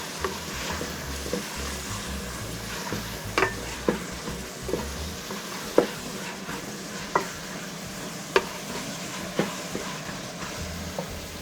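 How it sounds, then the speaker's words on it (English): Garlic and bolognese ingredients are stirred in a frying pan over a low sizzle, with a spoon knocking the pan every second or so in sharp, close clacks and no talking. "Then stirring we go."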